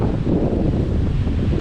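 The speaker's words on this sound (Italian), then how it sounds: "guardate che vento e quanto si solleva l'umidità dal mare" Strong wind roars steadily across an open seashore, with a dense, continuous low rush and no pauses, loud and close to the microphone.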